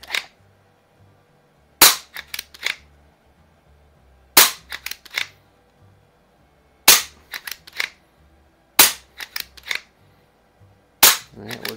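A Hatsan Jet 2 pump-action air rifle with a silencer fires several muffled shots at a steady pace. Each shot is followed by quick clacks of the pump action, and the sounds carry close and clear.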